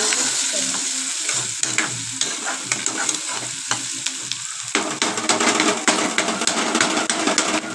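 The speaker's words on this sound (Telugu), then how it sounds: "ఆనియన్స్ అయితే ఇంకా ఇట్లా వేగించుకోండి." Onions frying over high-medium heat in a pan for spicy egg rice, a loud constant sizzle with clattering spatula stirs that grow busier toward the end.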